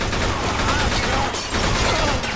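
Gunfire in the video game Mafia 2 sounds as loud, dense, continuous bursts, like a fusillade, with barely a break over two seconds.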